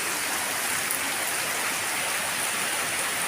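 Dense, continuous roar of heavy rain, loud and unbroken, with a broad wash of noise that blends in gusting wind.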